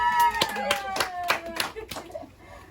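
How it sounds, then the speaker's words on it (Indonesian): A small audience at a product training session claps in a short burst of scattered applause, with several distinct hand claps near the listener under and between a speaking voice. "Aplaus untuk Anda."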